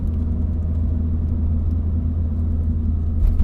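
A tuned Ford Fiesta ST with an X47R turbo setup making about 280 wheel horsepower drives at a steady pace. Its engine gives a constant low rumble inside the cabin that swells slightly at the end.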